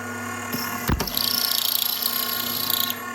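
A Henderson brass trimmer cutting a new Starline 6.5 brass case, motor whirring steadily with a rapid, even chattering grind of the cutter for about two seconds, close and fairly loud, then stopping.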